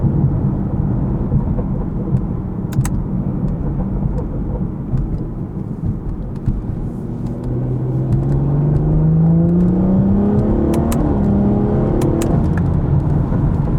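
A stage 2 tuned BMW 440i engine revs up hard and climbs in pitch under a steady rumble of road and wind noise on backroads, growing louder midway through.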